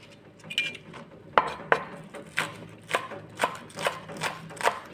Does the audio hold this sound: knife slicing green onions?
yes